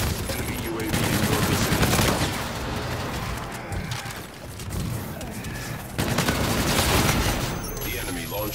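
Sustained bursts of automatic gunfire and shots echo in a military video game, loud rattling volleys broken by short gaps, with radio-style voices talking over the shooting.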